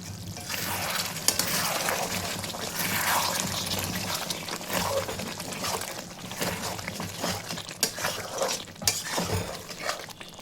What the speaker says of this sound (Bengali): একটু নাড়িয়ে দিই।